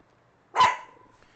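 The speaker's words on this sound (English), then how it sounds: "Sorry, guys, it's the dog." A dog named Poe gives one sharp, loud bark nearby, a single burst with a short ringing tail, then quiet.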